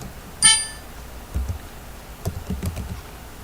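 Computer keyboard typing while working in ETABS 9.7 structural software: a sharp ringing click first, then a few soft scattered keystrokes close by, quiet and without speech.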